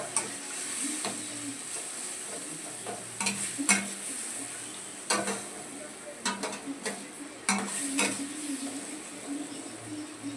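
Water is splashed into masala frying in a pan: a steady, low sizzle with scattered sharp clicks and scrapes of stirring, fairly close and moderately quiet.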